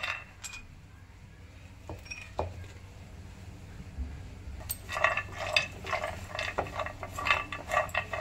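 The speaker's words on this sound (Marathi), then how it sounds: "याला चम्मच यामध्ये फिरवतच राहायचं" A spoon scrapes and clinks in a pan as cashews and almonds roast in ghee, with irregular metallic taps and stirring scrapes growing busier and louder toward the end.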